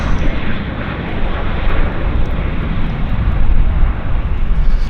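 A WestJet airliner lands at Vancouver airport, its engines a steady, loud broadband roar that holds near and unbroken, swelling slightly toward the end.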